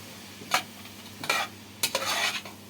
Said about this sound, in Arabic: كل ما هحط حاجه هديها تقليبه